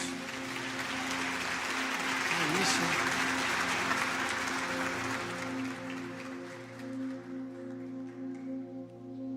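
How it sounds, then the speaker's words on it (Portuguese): Crowd applause rises and swells to a peak, then thins out under sustained musical tones, with a brief spoken remark over it. "Pode aplaudir o Senhor pela vida desses meus irmãos."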